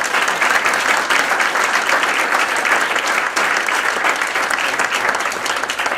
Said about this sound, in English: Let's give our panelists again another round of applause